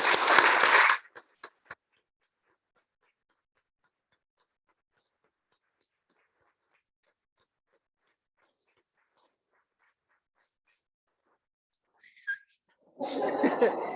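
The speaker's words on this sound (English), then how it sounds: "I want another big round of applause for Ryan Marvin." Clapping and a whistle from a church congregation at a Sunday worship service come in two short bursts, about a second at the start and again near the end, with a long stretch of near silence between them.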